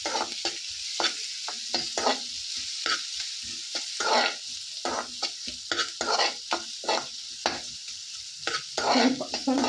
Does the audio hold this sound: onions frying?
yes